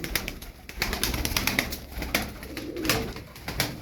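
Pigeons coo close by while birds are released, the soft throaty calls repeating over a busy, scratchy background of movement.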